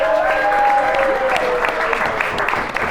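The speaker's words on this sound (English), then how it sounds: "let's have one more round of applause for the beautiful bride and groom." Wedding guests applaud the bride and groom at the reception speeches, a full round of clapping from the crowd with voices and cheers mixed in, steady and close.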